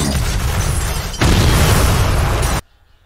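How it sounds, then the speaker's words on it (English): A loud, roaring explosion of a building in the film Hot Fuzz, with a heavy low rumble that swells midway, then cuts off abruptly into near silence. "an amazing explosion that was done with practical and digital effects"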